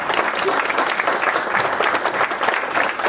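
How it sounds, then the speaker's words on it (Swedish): At a Swedish association's annual meeting, the assembled members give the presiding officers a warm, full round of clapping, continuous and close, with a busy crackle of many hands. "jag tycker att vi ger presidiet en fantastiskt varm applåd"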